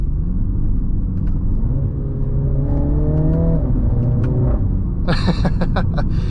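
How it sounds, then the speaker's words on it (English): A 2024 MINI Clubman JCW engine rumbles and revs steadily through gear changes, its pitch rising and falling, then a burst of sharp exhaust pops and crackles near the end. "they give you a nice exhaust rumble for some nice audio feedback"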